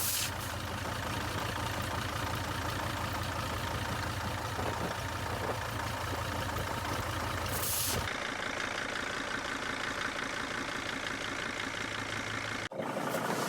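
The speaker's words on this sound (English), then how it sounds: "That means it's idling evenly." The diesel engine of a T1N Mercedes Sprinter van idles evenly with a steady, low rumble close by, its tone shifting slightly partway through before settling.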